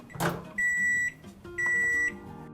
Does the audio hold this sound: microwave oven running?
yes